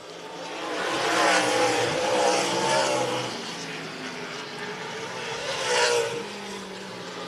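Race cars in a Grand National Super Series event at Franklin County Speedway roar past at a distance, engines swelling and fading in two passing waves, a fairly faint, washed-out crowd-and-track ambience with no talk.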